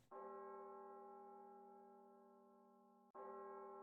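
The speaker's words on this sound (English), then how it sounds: "there's a fucking bell ringing" A bell in a video game rings with a long, sustained tone that slowly fades, then is struck again near the end, clear and alone with no talk.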